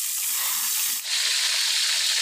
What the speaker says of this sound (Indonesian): Saiki iwake dijemlungke berhubung minyaknya wis panas yo.